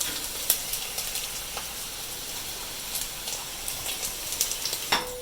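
Curry leaves crackle and sizzle in hot oil with garlic and ginger for a kiwi pickle, a steady close frying hiss with scattered pops and a few light stirring scrapes.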